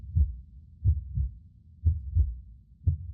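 A deep, muffled heartbeat sound effect pulses in a steady lub-dub rhythm, about three double beats, thudding low and alone inside an empty spiral tower.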